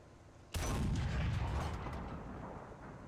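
A T-34-57 tank cannon fires once in a video game, a sudden loud boom that hits hard and then fades slowly over the next few seconds.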